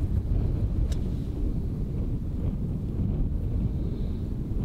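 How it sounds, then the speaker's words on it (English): Steady wind rushes and buffets a microphone on an open clifftop golf course, a continuous low roar with no voices, fairly faint but unbroken throughout. "Wind is swirling."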